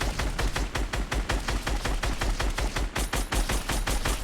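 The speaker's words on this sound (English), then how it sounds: "I am hitting the majority of my shots" Rapid gunfire in Fortnite, a steady stream of loud, evenly spaced shots fired in quick succession for the whole stretch, close and alone without talk.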